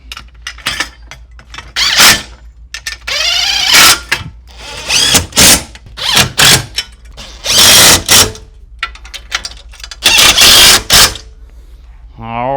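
A power tool drives bolts home on a golf bag holder fitted to a Tara EV 2+2 cart, in short whirring bursts with brief pauses between, close and loud, with someone talking between runs.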